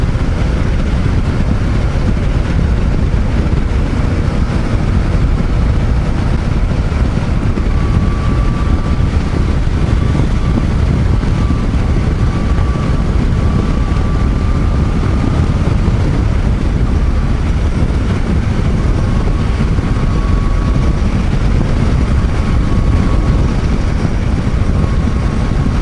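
A Yamaha Niken three-wheeled motorcycle cruises at 100 km/h, a loud continuous engine drone mixed with heavy wind rush that stays steady and unbroken throughout, with no voices.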